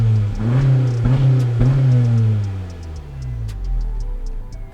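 A Honda Civic engine with stock exhaust revs up briefly and settles back, its exhaust note droning and falling, with light ticking sounds scattered over the idle.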